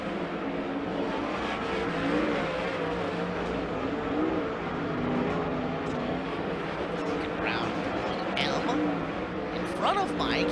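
410 sprint cars race on a dirt track, a dense, continuous roar of engines at full throttle with passing surges, under steady talk from an announcer.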